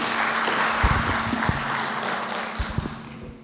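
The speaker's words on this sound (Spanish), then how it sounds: "otro aplauso" Audience applause welcoming a doctor to the stage before her rheumatology lecture on osteoarthritis, a steady crowd of clapping with a low hum and a few nearer, sharper claps standing out.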